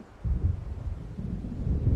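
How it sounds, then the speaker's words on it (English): Low rumbling thunder rolls over Cauldron Lake in a video game as a storm approaches, swelling in two deep waves beneath wind noise and fairly close. "It seems there's a storm coming."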